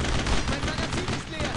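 Sustained gunfire in the World War II shooter Brothers in Arms: Road to Hill 30, at Vierville, with dense overlapping rifle and machine-gun bursts hitting a wall, steady and loud throughout.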